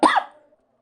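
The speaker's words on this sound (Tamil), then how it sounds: "சாரி அடிக்கடி இருமல் வந்துட்டே இருக்கு" A single sharp cough bursts out close to the mic during a spoken maths lesson, then trails off quickly into quiet.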